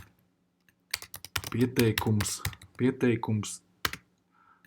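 Computer keyboard keys clicking as a message is typed into a business chatbot, light taps mixed under continuous Latvian speech from a nearby man.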